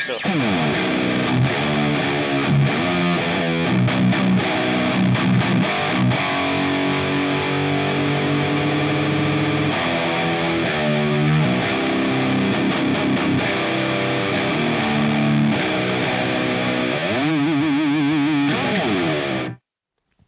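Heavily distorted electric guitar through a Line 6 POD Express plays chugging metal riffs with sustained chords, loud and continuous for about twenty seconds before cutting off abruptly.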